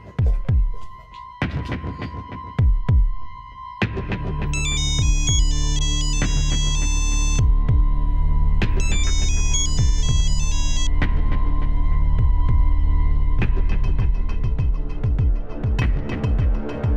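A loud electronic phone ringtone plays a repeating melodic pattern in two bursts, over a steady throbbing hum, with a few soft taps around it.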